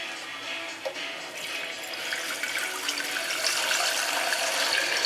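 Tap water runs steadily into a cooking pot as about a liter is filled for risotto stock in a home kitchen, the rushing sound building slightly louder over five seconds with no talking.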